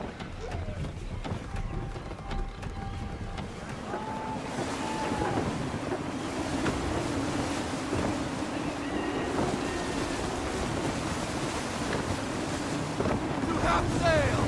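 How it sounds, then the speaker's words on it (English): Steady gusting wind and rushing sea surround a sailing ship in Assassin's Creed 3, a continuous broad roar that swells slightly louder midway and holds, with faint creaks and distant voices underneath. "Wind looks to be shifting. Stay alert, Connor. Gusty winds can be difficult to manage."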